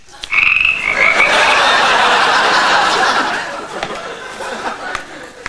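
Frogs croak in a loud, close chorus of rapid rasping calls that swells quickly and fades toward the end, with no speech over it.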